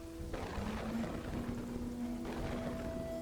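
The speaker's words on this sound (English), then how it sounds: "So got more rain, which is creating flood problems." Steady rain falls in the city-building video game Kingdoms and Castles, a continuous hiss of rainfall with faint tonal game music or ambience running beneath it throughout.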